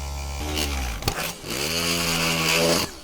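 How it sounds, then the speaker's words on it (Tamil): A small power drill whines as it bores into a plastic bottle cap, revving up, pausing briefly with a click, then spinning up again in a steady buzzing run, close by. "இப்போ வந்து ட்ரில் பண்ண போகிறோம்."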